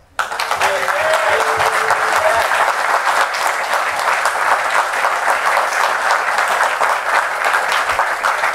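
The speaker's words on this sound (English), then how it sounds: "Please join me in acknowledging his efforts with a round of applause." Sustained applause from a community gathering audience honoring a local drummer, loud and steady with dense clapping throughout and a few faint voices underneath.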